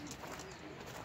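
Pigeons cooing softly inside a loft, a low continuous murmur of several birds with faint rustling throughout.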